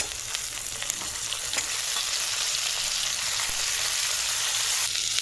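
Steady, close sizzle of Malabar spinach seeds frying with potato, black cumin and turmeric in hot oil in a home kitchen, a dense continuous crackle with faint spatter ticks throughout.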